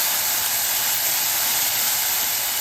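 A ground masala paste for pulao sautés in a pan, giving off a loud, even, continuous sizzling hiss with no pauses or voices.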